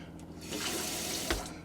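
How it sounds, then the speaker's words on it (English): Cold tap in a motorhome's fresh water system runs with sanitising solution, a steady close hiss of flowing water lasting throughout, with a small splash or knock near the end. "we've got water in the cold tap"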